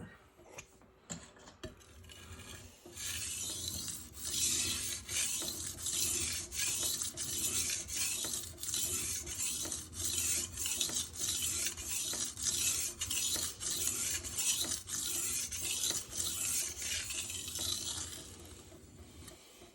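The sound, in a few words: sharpening S35VN knife on Rockstar 320 grit stone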